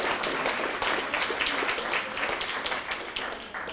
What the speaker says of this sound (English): let's give the graphic arts students one more round of applause